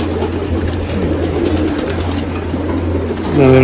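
Pigeons coo inside a racing pigeon loft, low murmuring calls blending into a steady background hum, with a louder, closer coo rising at the very end.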